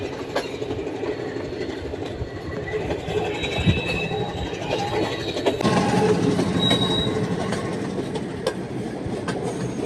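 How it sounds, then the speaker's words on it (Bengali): A train departs and rumbles steadily along the tracks between Nuwara Eliya and Ella in rain, wheels squealing in thin high tones and the rolling noise growing slightly heavier partway through. "ট্রেন ছেড়ে দিয়েছে"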